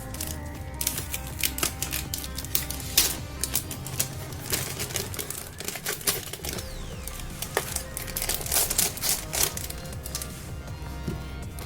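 Paper bags from a stationery package rustle and crinkle in a run of sharp, irregular bursts, close and fairly loud, with crisp snaps scattered throughout.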